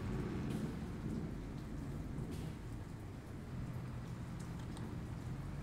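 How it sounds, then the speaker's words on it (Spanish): Steady rain and rolling thunder in the Farming Simulator 22 video game, a dense continuous downpour with low rumbling throughout, fairly faint and uninterrupted by talk. "¿Se escuchan los truenos"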